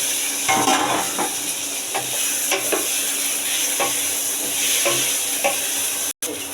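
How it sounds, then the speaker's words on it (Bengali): Egg and potato curry masala sizzles in a frying pan while a spoon stirs it. Irregular scraping knocks sound close against the pan over a steady frying hiss. "আবার ডিমটাও দিয়ে দিচ্ছি, ডিমটা দিয়ে একসঙ্গে নাড়াচাড়া করে নিচ্ছি।"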